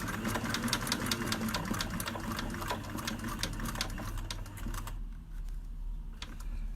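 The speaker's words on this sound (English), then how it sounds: "Stop with your needle in, with your needle down." A sewing machine stitches a rope bowl: rapid, even mechanical clatter under a steady motor hum that runs close and loud, then stops abruptly, leaving quieter background noise.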